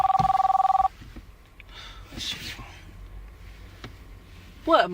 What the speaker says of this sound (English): Who is calling my phone?